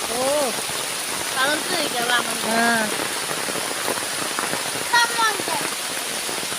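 A downpour of heavy rain hisses continuously across a rubber plantation, near and dense, with water splashing on surfaces and a voice speaking now and then above it.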